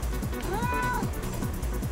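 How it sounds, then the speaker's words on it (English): A house cat meows in one clear, rising-and-falling cry lasting under a second. It sounds close by over a steady background hum. "What's up, kitty?"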